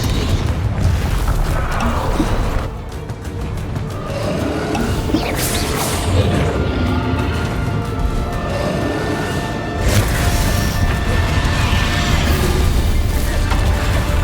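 Confringo spell blasts in Hogwarts Legacy during a fight against Ranrok, heavy booming explosions and crashing impacts layered over continuous loud battle noise, with sharp whooshes recurring throughout.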